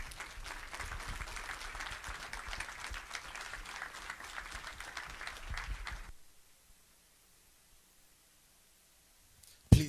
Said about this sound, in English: ask you if you could please stand and give him applause